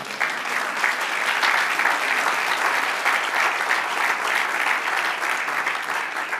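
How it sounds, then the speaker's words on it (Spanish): A church congregation applauds to the Lord, dense and sustained clapping from many people that holds at an even, full level for several seconds without pause. "Dale un aplauso ahora al Señor"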